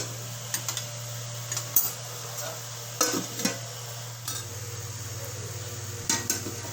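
Mushrooms being stirred in a pan on low heat for a Malvani-style recipe: sparse, light scrapes and clinks of a spoon against the pan over a steady low hum, with occasional soft taps.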